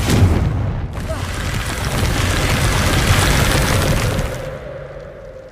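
Confringo spell explosion in the video game Hogwarts Legacy: a loud blast followed by a sustained roaring, crackling burst that fades after about four seconds.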